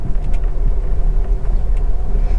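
A car drives through market traffic on a two-way lane with a steady low engine rumble and road noise heard from inside, loud and continuous, with no voices.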